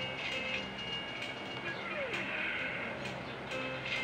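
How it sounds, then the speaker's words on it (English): A train in the game OpenTTD rumbles along steadily with faint rhythmic clatter and a brief squeal, sounding synthetic and continuous. "The trains is already here."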